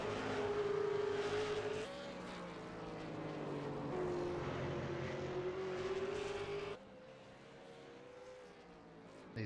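V8 Supercar race cars battle at Oran Park, engines roaring continuously with rising and falling pitch as they chase each other, loud and steady before the sound drops lower near the end.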